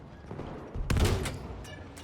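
A burst of rapid gunfire in the World War II shooter Battlefield V, a sharp loud volley lasting under a second over a low background hum, followed by a fainter trailing shot.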